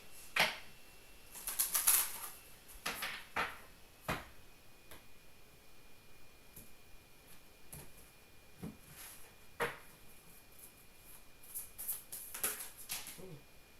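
Tarot cards being shuffled by hand during a reading, soft dry riffling and tapping in scattered bursts, close and fairly quiet in a still room.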